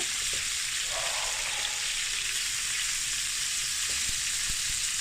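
Loud, continuous sizzling of shrimp frying in a pan, with occasional soft clinks and scrapes of stirring underneath.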